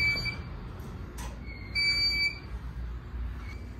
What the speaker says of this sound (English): It's beeping in here too.